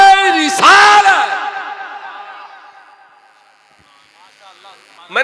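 Crowd at a religious gathering shouting back in response to a Naara-e-Takbeer chant, a loud collective roar that bursts out, swells, then trails away to near silence before a fresh shout starts.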